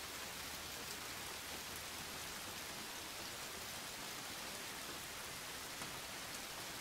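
Rain pouring in the video game Like a Dragon: Ishin!, a dense, even roar of rainfall on surfaces, constant and close with no voices.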